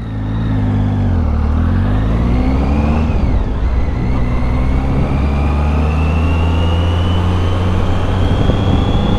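An 800cc triple motorcycle riding along a windy shore, its engine droning loud and close with rising and falling revs as it accelerates and shifts, wind rumble underneath.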